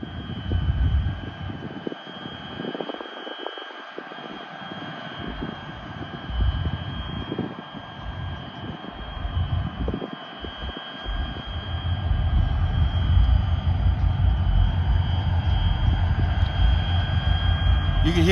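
Diesel engines of a river towboat pushing barges run near full power, a deep steady rumble with a faint whine above it that grows louder and closer toward the end, with scattered background noise earlier.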